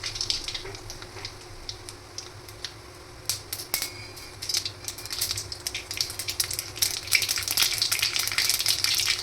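Mustard seeds crackling and spitting in hot oil for tomato thokku, sharp pops scattered over a steady sizzle that thickens and grows louder toward the end, with no talk.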